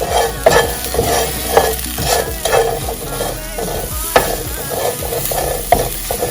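Basil and vegetables are tossed and stirred in a hot pan, with a steady close sizzle under repeated scraping and clinking strokes of the utensil.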